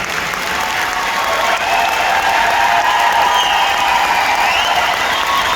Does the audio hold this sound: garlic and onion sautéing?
no